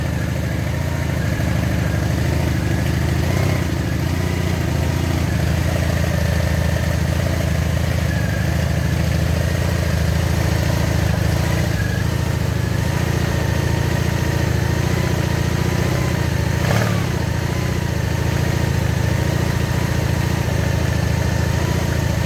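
A Honda VF750 C Custom RC43 motorcycle engine idles steadily and loudly throughout during a coolant change, a constant low rumble with slight variations and no talking.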